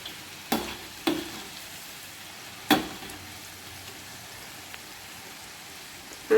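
Jalebi frying in hot oil, a faint steady bubbling hiss broken by a few sharp clinks as the pieces are turned.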